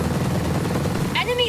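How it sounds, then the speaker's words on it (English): Gunfire in Tom Clancy's Ghost Recon Breakpoint video game, a quick burst of rapid, rhythmic shots up close, with a short tonal game sound near the end. "Shooting!"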